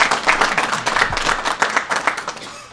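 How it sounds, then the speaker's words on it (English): Applause from people at a press briefing on an extreme winter storm in Oneida County: a short, uneven round of clapping from a modest group, close and fairly loud, with individual claps standing out in the rhythm. "let's give them a round of applause"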